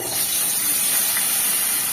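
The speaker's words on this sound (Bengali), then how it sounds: "এবার আমি এর মধ্যে কেটে রাখা আলু দিয়ে দিচ্ছি" Thinly sliced potatoes hit hot oil tempered with dried chilli, giving a loud, continuous frying sizzle and hiss throughout the short moment.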